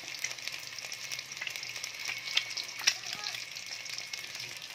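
Boiled eggs frying in a pan of hot oil, a steady close sizzle and crackle with a few sharper pops, heard alone without talk.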